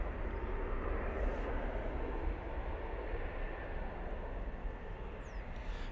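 An EasyJet airliner departing an airport, a distant, steady broadband roar of jet engines that holds evenly throughout without rising or falling, with no talk over it.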